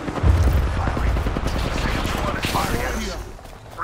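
Rapid bursts of gunfire from the Apex Legends battle royale game crackle steadily throughout, loud and close, with a dense run of shots early on and continuing fire underneath game sounds.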